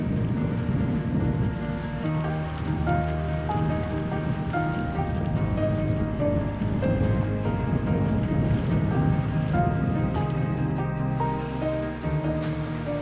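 Sea surf rolls steadily against the Jeju shore, a loud continuous wash of breaking waves with wind noise buffeting the microphone throughout.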